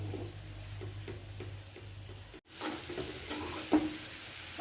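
Breadfruit roasting in a pan with curry leaves: a soft, steady sizzle with quiet stirring scrapes, a brief gap midway, then a slightly louder frying hiss with an occasional clack of the spoon.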